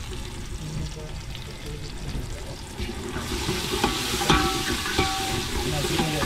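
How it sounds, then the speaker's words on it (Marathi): Tomatoes frying in oil in a pan aboard a fishing boat at sea, a close sizzle and stirring clatter that swells louder partway through, with a voice speaking faintly underneath. "टमाटर सुद्धा आपल्याला तेलामध्ये शिजवून घ्यायचे"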